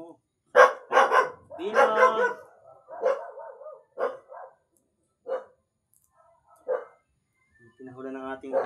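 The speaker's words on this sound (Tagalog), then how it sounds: "Pinahula ng ating aso." Household dog barking in short sharp bursts, several loud barks near the start then scattered single barks, mixed with Tagalog talk and a voice throughout.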